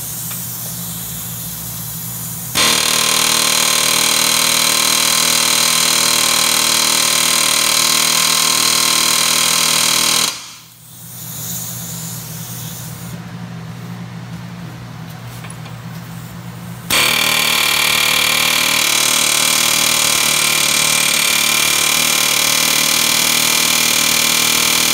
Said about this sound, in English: we're going to see if we can knock it out with the old air hammer